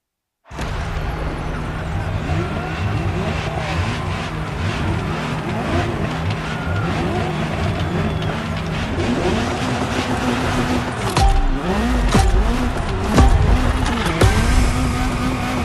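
Ferrari GTO supercar engine in the racing game The Crew Motorfest, a continuous loud engine roar with rising and falling revs and gear changes, with a faint voice underneath.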